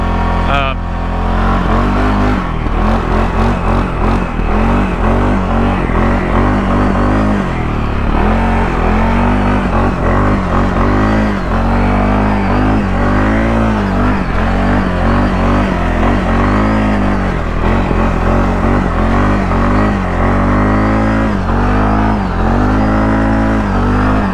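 A CFMoto CForce 600 ATV engine revs and pulls hard in low range while the quad crawls over rocks and sand, loud and close throughout with repeated throttle surges, and a rider talks over it.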